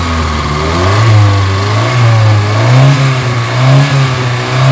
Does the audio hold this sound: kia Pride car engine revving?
yes